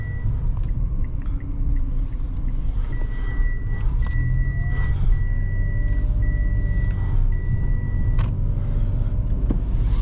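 A 2022 Mitsubishi Mirage G4 seatbelt warning chime beeps in a steady repeating pattern over the constant low rumble of the car on the road.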